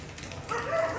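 Dogs nearby in a home kitchen setting, giving brief soft yips and barks through a one-second stretch with steady room noise underneath.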